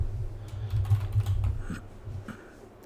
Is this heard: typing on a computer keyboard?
yes